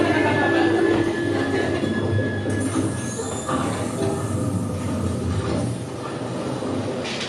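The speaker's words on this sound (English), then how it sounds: "The train screeches to a halt as the doors open to pack the train further." Train wheels screech loudly and continuously as a train brakes to a halt, a stage-play sound effect with rail clatter and metallic squeal filling the whole stretch.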